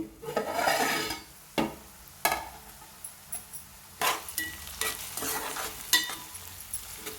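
Dried fish and egg curry with green chillies cooking in a pan, with repeated close scrapes and clatters of a spoon against the pan over a low sizzle, no voices.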